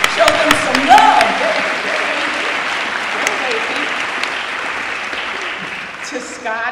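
A crowd at an awards celebration claps steadily and warmly throughout, a dense wash of applause with a voice briefly audible over it.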